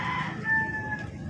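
A rooster crows once, close and clear, a short drawn-out call over a low background rumble.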